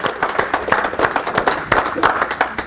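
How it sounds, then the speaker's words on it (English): Brief burst of applause from an audience welcoming a volunteer to the stage at a Christian faith talk, individual claps audible in an uneven, moderately close patter. "give him a round of applause"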